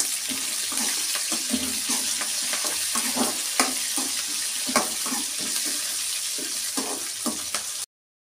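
Chicken curry with masala powder sizzles and fries steadily in a pan, with repeated scraping stir strokes and soft clinks throughout and no talk.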